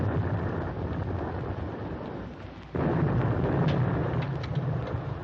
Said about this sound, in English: Our escort must be dropping depth charges.